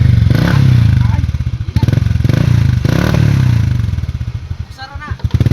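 A motorcycle with a carburetor troubled by water in its fuel is kick-started, thudding and sputtering into loud uneven engine pulses close by as people talk over it.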